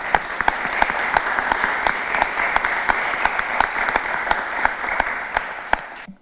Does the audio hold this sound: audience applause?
yes